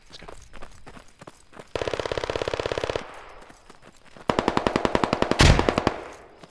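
Bursts of rapid automatic gunfire in the game Squad, two long volleys with quieter shots between, loud and fairly close, a sharp blast near the end.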